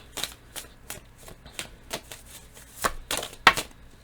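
Tarot cards being shuffled by hand, a quick series of papery riffling bursts and soft slaps repeating at an uneven rhythm, close and fairly quiet with no talking.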